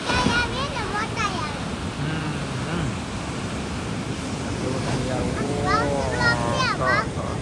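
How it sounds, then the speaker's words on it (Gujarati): Large, rough sea waves churn in strong wind during a storm, giving a constant roaring wash with heavy wind buffeting the microphone, while people talk and exclaim over it. "એવડે એવડે મોટા મોજા"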